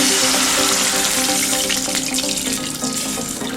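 Water poured into a pan of fried chillies and curry leaves while making pesarattu upma, a steady, loud rushing pour with a faint sizzle underneath, running without a break and easing slightly toward the end.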